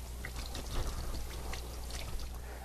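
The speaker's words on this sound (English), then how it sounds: "And then wash our hands again." Tap water runs steadily while hands are washed at a kitchen sink, a dense close splashing stream heard alone without talk.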